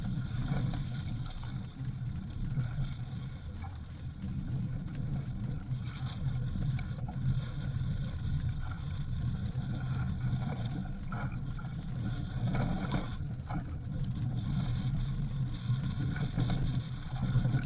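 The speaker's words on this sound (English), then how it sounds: "I love it when the bow crashes into the waves like that and sends spray up." A sailboat heeling under sail, its bow crashing into waves, gives a continuous rough wash of water and wind rumble with scattered splashy bursts, moderately loud and steady throughout; no speech.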